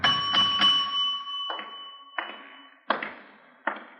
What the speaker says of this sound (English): Nobody at the desk. I'll ring the bell.